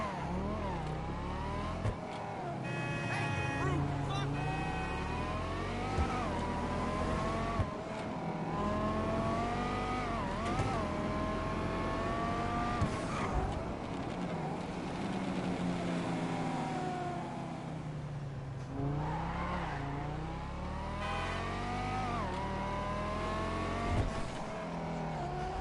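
Convertible car driving in GTA Online, the engine revving up and down through repeated gear changes and accelerations, loud and close with occasional tire noise, no talking.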